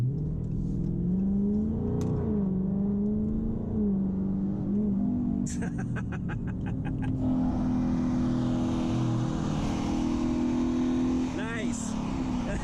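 Dodge Charger with an aftermarket throttle controller accelerating hard on a street, its engine note rising steadily and loud, with brief clicking and a shift partway through as other traffic passes.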